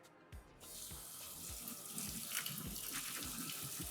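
Tap water runs steadily into a sink, splashing over lentils being rinsed, with a soft gurgling rhythm, close and continuous.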